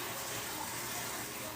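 Cold water runs steadily from a tap over tie-dye shirts being rinsed, a continuous broadband hiss with no pauses, moderately loud and close, without talk.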